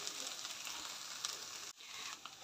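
Radish bhujia being pan-roasted to dry out its moisture produces a soft, even frying hiss, fairly faint and continuous, broken by a short dip near the end.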